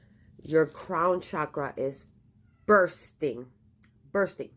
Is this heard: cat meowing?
yes